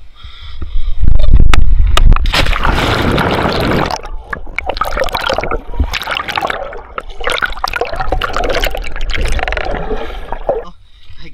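Cold, clear water from the Diteki River rushes and gurgles loudly and close, splashing continuously over rocks throughout.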